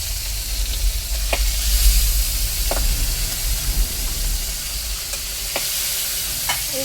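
Rohu fish fries in hot oil in a kadai, giving a steady, close, loud sizzle with occasional sharper crackles and spits, without any talking.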